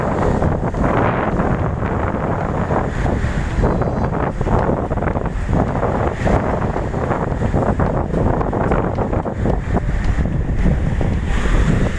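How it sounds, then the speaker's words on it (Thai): Strong ocean surf rolls continuously onto a natural, undeveloped sandy beach at Pranburi, loud and close with steady wind noise across the microphone and no voices. "ชายหาดอันแสนเบิงวาง และเงียบสงบมีแต่เสียงคลื่น"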